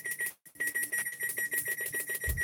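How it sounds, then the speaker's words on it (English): Kitchen timer beeping in a steady rapid run of electronic tones while homemade chicken noodle soup cooks, clear and close with no voices. "I think I'm going to put the timer on for like an hour."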